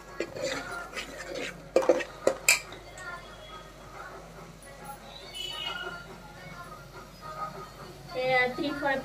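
A ground masala paste with turmeric is sautéed in oil in a pan for a prawn curry, with a spoon clinking and scraping against the metal in uneven bursts while a voice talks nearby.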